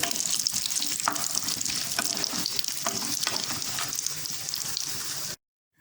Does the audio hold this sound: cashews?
yes